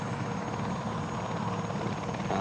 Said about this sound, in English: Ooh, sound of turbo farting helicopters.